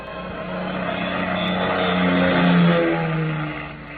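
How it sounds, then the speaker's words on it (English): A large airliner descends to land at night as a radio drama sound effect, a steady roaring engine drone that swells gradually to a peak and then eases slightly, heard alone. "the big plane slowly glided down out of the clear starlit sky"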